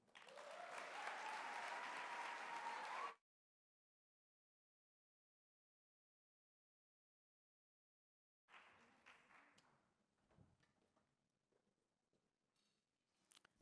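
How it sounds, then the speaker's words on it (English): Audience applause at the Living Color gala, a loud burst of clapping for about three seconds that cuts off abruptly, followed by silence and then faint scattered room sounds. "Let's please give them one more round of applause."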